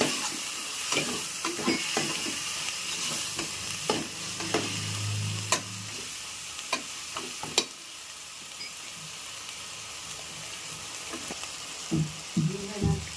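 Yogurt stirred into hot oil while preparing mutton biryani, Tamil Nadu style, giving a steady close sizzle and frying hiss broken by repeated scraping stirs and clinks of the spoon, with no talking.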